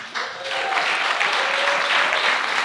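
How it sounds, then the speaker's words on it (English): Audience applause at a small live music performance, a dense burst of clapping that rises quickly and holds steady for a couple of seconds. "Give yourselves a round of applause."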